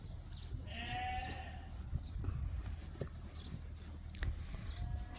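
Sheep on a farm during a heat wave let out a couple of faint, distant bleats over a low outdoor rumble, with occasional soft knocks and rustles nearby.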